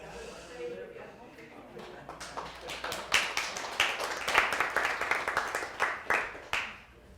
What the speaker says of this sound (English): An applause for Frank.